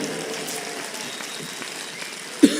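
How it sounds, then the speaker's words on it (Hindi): The audience at a Hindi kavi sammelan poetry gathering in Delhi claps in a soft, distant, continuous wash, ending in one sharp close knock. "एक बार जोरदार तालियां बजाकर बताइए कि तालियां क्या होती है"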